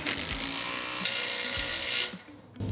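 Workbench legs being cranked up and tightened in a budget DIY workshop, a loud continuous mechanical grinding with rhythmic ratcheting pulses that stops abruptly near the end, followed by a faint restart.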